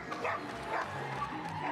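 A dog barks and yips in a scene from the movie Halloweentown, a short burst of excited barking heard through mixed film sound with a voice partly over it.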